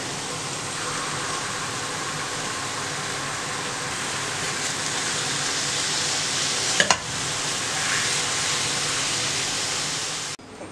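Minced meat fries loudly in a pan, a close, continuous sizzle with stirring scrapes and a sharp clatter near the end before the sound cuts off.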